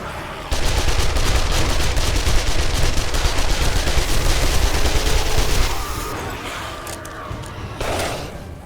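Automated turret fire in the video game 7 Days to Die rattles continuously and loud for about five seconds, then cuts back to quieter background noise.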